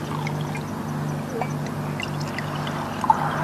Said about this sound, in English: let's have a pour and see what it's like.